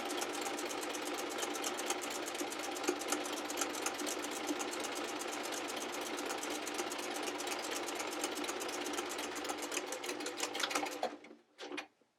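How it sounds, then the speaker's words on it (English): A sewing machine runs steadily with a fast, even mechanical rattle of zigzag stitching on denim jeans, close up, then stops abruptly near the end. "So I'm going to go ahead and show you that while I'm at the sewing machine."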